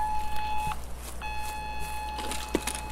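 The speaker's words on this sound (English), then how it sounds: "Yeah, there's the alarm for it." An electronic alarm in the shooter game Escape from Tarkov sounds in a repeating beep pattern: steady tones cut off, pause briefly, then resume, over a low ambient hum, with no voices.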